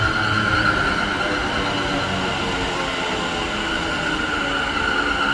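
A train at Selly Oak station, producing a steady, close rumble and rushing hiss with no breaks from start to finish.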